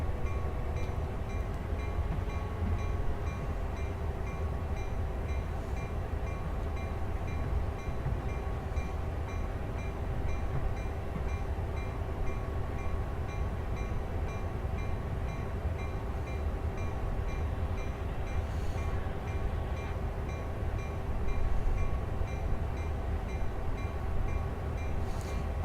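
A train slowly backs into a siding to pick up boxcars, giving a steady low rumble and rolling rail noise that holds at an even level for the whole stretch, with no voices.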